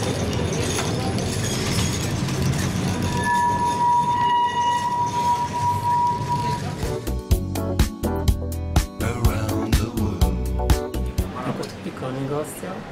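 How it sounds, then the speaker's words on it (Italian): The Elevador da Glória funicular tram in Lisbon rumbles along its rails, first a steady low drone with a sustained squeal, then rhythmic clanks and thumps from the wheels over joints, loud and close, with people talking throughout. "Perché non prendere allora il tram chiamato"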